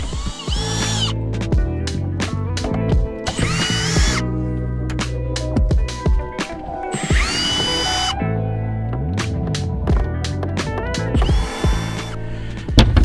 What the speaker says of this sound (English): Start by taking these screws out.